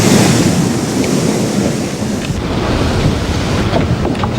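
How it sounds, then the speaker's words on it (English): Strong wind gust roaring over an all-female crew's ocean racing yacht on a non-stop round-the-world record attempt, with steady loud broadband rush of wind and surf filling the whole span, close and continuous with no voices. "that was a 32 gust that came through"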